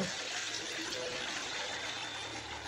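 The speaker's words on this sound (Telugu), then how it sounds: "రైతులు తీసుకొచ్చిన పాలని నెమ్మదిగా వీటిని ఇలా పోస్తూ ఉంటారు" Milk brought by farmers being poured slowly into a collection vessel at a dairy, a continuous loud rushing gush of liquid with no pauses.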